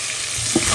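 Cauliflower frying in a pan gives a brief, steady hiss with a soft knock of stirring near the end.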